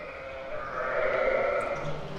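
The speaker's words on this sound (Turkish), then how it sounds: "Burada da bir tane koyunumuz var." A single sheep in a farm pen bleats in a drawn-out, wavering call at close range, lasting about two seconds.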